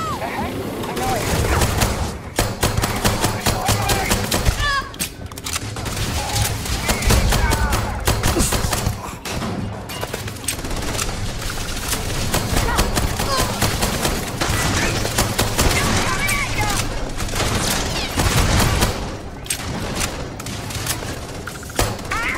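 Sustained gunfire from enemies in the sci-fi video game Starfield, with dense bursts of shots and thuds running continuously near and loud, mixed under game voices and talk throughout.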